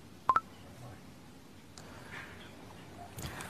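Two short telephone dialing tones ring out close together near the start as someone places a late-night call to a grandfather, then only a quiet room with faint movement remains.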